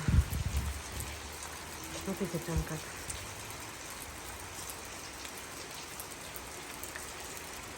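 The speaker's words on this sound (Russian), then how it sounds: "смотрите, какой дождь" Rain falls steadily in the mountains, an even wash of patter filling the scene throughout; someone talks briefly near the start before the rain carries on alone.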